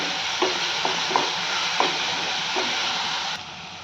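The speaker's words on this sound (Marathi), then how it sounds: "छान असं मिक्स करून घेऊया आलं लसणाची पेस्ट" Ginger-garlic paste is stirred into frying vegetables in a pan, with a steady close sizzle and several soft scraping strokes of a spatula at uneven intervals.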